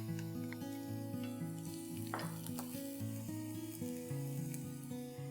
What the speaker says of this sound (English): now into this I'm going to add in 1 tablespoon of garlic finely chopped